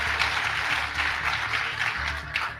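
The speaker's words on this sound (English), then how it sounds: "If we can give them a round of applause, please." Audience giving a round of applause at a conference athlete panel, dense continuous clapping from a large crowd at a strong, even level throughout.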